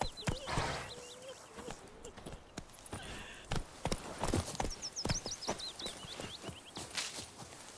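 Hooves of Roach, the horse in The Witcher 3, clop at a walking pace with irregular footfalls, mixed with bird chirps and faint ambient game sound throughout.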